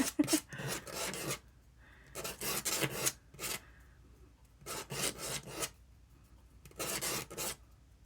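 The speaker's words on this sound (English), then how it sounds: "And we just sand the edges." Hand sanding along the edges of a miniature wooden antique-style cash register: about five close, rhythmic bursts of dry rasping strokes, separated by short quiet pauses.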